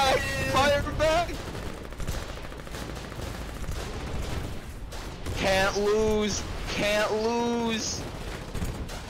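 Gunfire in a tank battle video game, a steady rattle of rapid shots and blasts running throughout, with someone talking over it and another voice exclaiming loudly.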